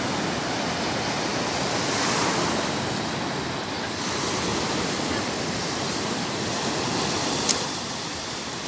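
Ocean surf at Liwliwa, a Zambales surfing beach, a continuous wash of breaking waves, steady and full with wind noise, close and uninterrupted.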